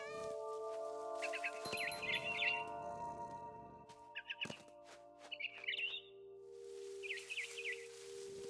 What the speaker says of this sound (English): Chirping outside my window. It was a barn swallow going back to her nest.